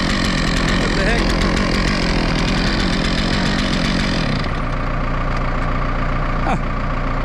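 A freshly sharpened chainsaw engine roars loudly and steadily up close at a sawmill, then drops to a lower, rougher idle partway through.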